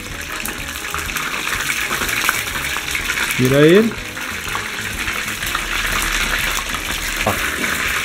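Breaded hake fillets frying in hot oil, a dense loud sizzle throughout, with a brief voice speaking over it midway and a utensil tap near the end.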